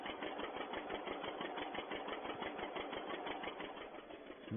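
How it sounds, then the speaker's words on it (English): A 1951 tractor engine drones steadily in top gear while tedding hay, a close, continuous mechanical rumble with a rapid even pulse and no voices. "for some reason this tractor not moving very well"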